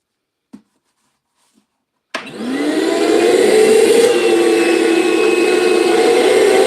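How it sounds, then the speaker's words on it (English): A vacuum cleaner used during a vintage chair sanding job clicks on after two faint taps, roars up quickly and then holds a loud, steady whooshing whine close by. "Vacuum."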